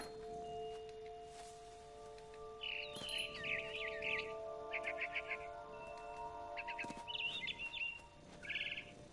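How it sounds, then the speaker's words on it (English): Small birds such as a barn swallow chirp in short bursts of rapid twittering near a window, with steady hum and faint rustling beneath. "Then I heard chirping outside my window."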